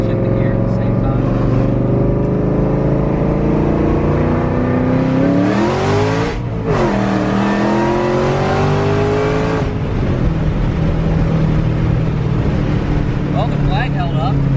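A Ford Shelby GT500 with a modified flag being driven: a loud engine revs up and drops through a gear shift, then pulls on under steady road noise, with people talking throughout.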